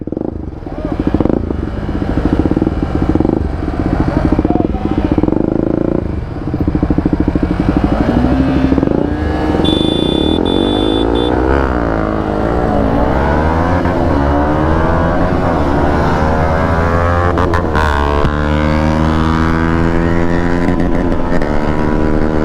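Motorcycles, among them a 2026 Yamaha R15M, KTM Duke 200, Yamaha MT-15, XSR155 and Bajaj NS200, rev loudly and accelerate away in a drag race, engines climbing in pitch through gear changes, close and continuous.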